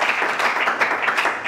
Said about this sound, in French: Est-ce qu'on va applaudir très fort pour relire ensemble Samoa Zambi